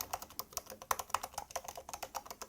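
Typing on an iPad Pro Magic Keyboard, a steady run of quick, light key clicks at close range with an uneven rhythm and a few firmer strikes, no voices.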